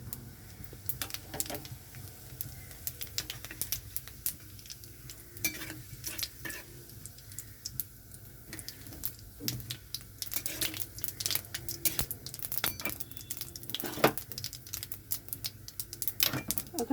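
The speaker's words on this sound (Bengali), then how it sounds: "তেলটা গরম হয়ে গেছে, এখানে আমি দিয়ে দিচ্ছি শুকনো লঙ্কা, তেজপাতা," Dried chilli, bay leaves and whole cumin sizzle in hot mustard oil, a steady crackling fry with scattered sharp pops and stirring scrapes throughout, fairly close and moderately loud.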